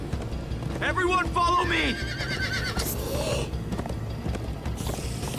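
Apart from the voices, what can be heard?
horses galloping, hooves, in Minecraft: Story Mode video game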